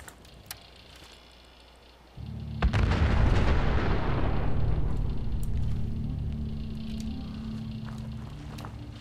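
A robot's self-destruct explosion in the video game Fallout 4: quiet ambience, then a sudden deep boom that swells into a long rumbling roar and slowly fades over several seconds.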